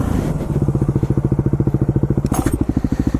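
Motorcycle riding in second gear at about 20 across a bumpy parking lot, the engine putting out a steady, close, evenly pulsing thump with a brief rattle near the end.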